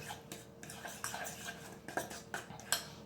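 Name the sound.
stirring cake batter in a mug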